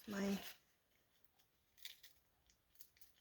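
Scissors trim a straight edge along a piece of fabric for a junk journal pocket, a few faint, quiet snips and slides spaced apart after a short burst of talk at the start.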